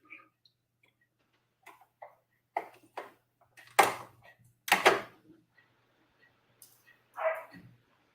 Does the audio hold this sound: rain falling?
no